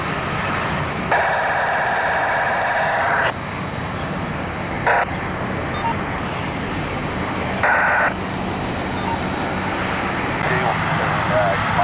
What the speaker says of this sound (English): Executive jet action down here in Columbus.